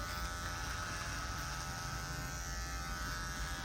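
An electric hair clipper trims a beard along the jawline with a steady, close, even buzzing drone that runs the whole time without a break.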